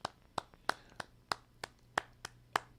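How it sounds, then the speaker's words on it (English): A single person claps hands in a slow, uneven rhythm, about nine sharp, fairly close claps over a quiet room with a faint low hum and no talk. "I want to give you a big applause."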